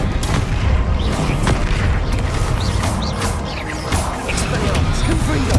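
The Bombarda blasting spell in Hogwarts Legacy during a fight with the dragon Ranrok, heavy booming impacts and crashing debris layered over a thick, continuous rumble of combat, loud and close with voices mixed in.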